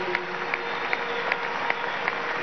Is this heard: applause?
yes